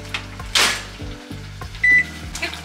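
Microwave oven heating food in a Japanese home kitchen: a steady low mechanical hum with a few clicks and clunks, a short high electronic beep near the end, and no talking.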